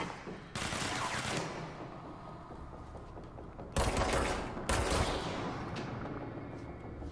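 Bursts of automatic gunfire in the video game Control, with a long sustained volley, a pause, then two more heavy bursts, loud and close.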